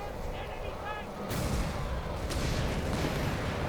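Tanks and an anti-tank gun exchange fire in the Company of Heroes 3 strategy game, sending heavy artillery booms over a dense rumbling battle bed, with a sharp blast about a third of the way in and another shortly after.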